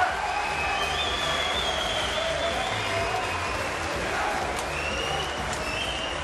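Home crowd at a London Cage Warriors MMA event roars steadily after Charlie Watts wins by strikes, a dense wash of cheering and clapping throughout with no pauses.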